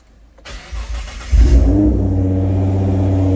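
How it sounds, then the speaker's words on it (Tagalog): A Nissan GT-R engine cranks and catches after a short quiet lead-in, then settles into a loud, steady revving idle close by. "Start the engine."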